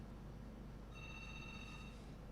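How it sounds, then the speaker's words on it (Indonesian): A telephone rings once for an incoming call during a broadcast, a faint electronic trilling tone lasting about a second over a low background hum. "Ada telepon yang masuk, boleh sekali lagi?"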